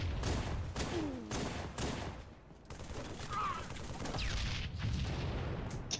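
Pistol gunfire in the Halo MCC online multiplayer video game: several sharp, rapid shots in bursts near the start, then scattered quieter game effects, with a voice talking over parts of it.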